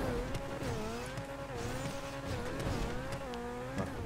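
Race cars in GTA Online with engines droning steadily, pitch rising and falling as they accelerate and shift, continuous and close throughout.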